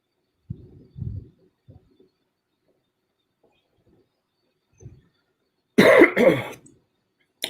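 A man with food poisoning coughs and clears his throat, a few low muffled bursts early, then one louder harsh cough near the end, close to the mic with no talk.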